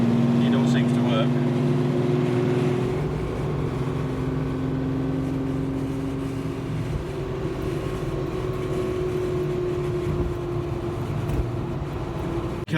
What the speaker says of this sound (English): this one is just not sounding like it's going to clear on a cylinder, so it's never good to drive a misfiring engine